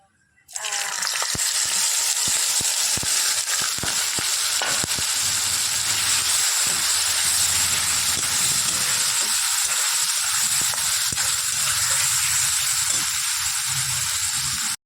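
Prawns marinated in green chilli paste, raw oil, turmeric and salt hit hot oil in a kadai and break into a loud, steady sizzle that lasts about fourteen seconds.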